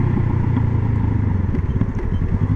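A 500 cc motorcycle engine runs steadily up close, a loud, continuous low rumble with a slight uneven pulse and no voices.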